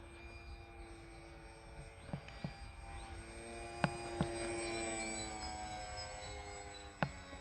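A Sig Kadet RC model airplane in flight gives a steady, tonal electric motor whine that rises and falls in pitch, moderately near, with a few sharp clicks and no talk.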